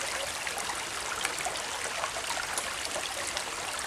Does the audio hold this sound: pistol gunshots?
no